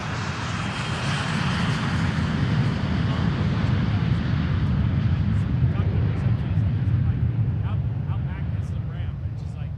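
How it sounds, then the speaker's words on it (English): Private jets departing one after another from Boeing Field, a loud, sustained engine roar filling the air while someone talks over it. "I've got a line of jets all departing straight up."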